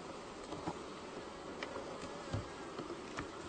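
Honeybees buzz and hum steadily close by as hive frames are jostled, a dense continuous drone with no voices.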